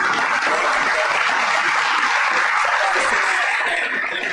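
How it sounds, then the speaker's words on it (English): Sustained audience applause at Magic City, a dense, steady wash of clapping filling the space without letup, with a few faint chuckles mixed in and no clear talk over it. "They just keep clapping."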